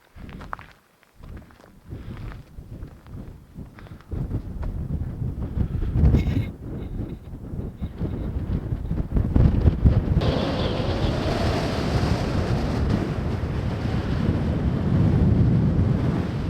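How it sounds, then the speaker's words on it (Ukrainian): Strong wind on a high mountaintop buffets the microphone in loud, roaring gusts, with a few footsteps early on and the rush building into a sustained heavy blast. "Тут вітер ще гірший."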